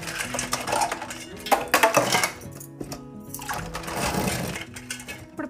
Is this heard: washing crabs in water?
yes